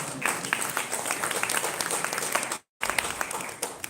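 Audience applause at an executive business dinner for an innovation challenge, a dense steady clatter of many hands that drops out for a moment and then resumes just as full.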